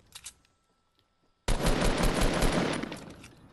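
Video game gunfire: a few faint shots, a pause, then a sudden loud sustained burst of rapid automatic fire that slowly tapers off.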